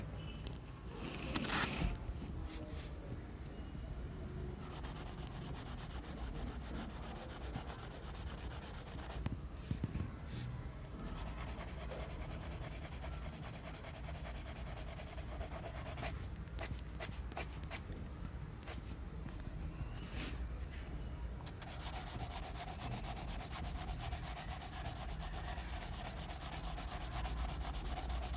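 Staedtler and Tombow drawing pencils scratch and rub across paper in steady, close strokes, with occasional sharper scrapes and short pauses between passages.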